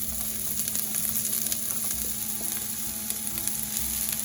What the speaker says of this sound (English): brown up our onions and our garlic